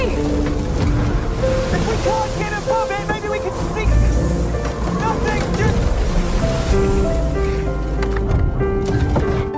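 Storm at sea in the film Adrift, with a sailboat caught as its sail is reefed against the gale: loud continuous surf and wind roar with a dense, rolling wash, under layered film score and effects.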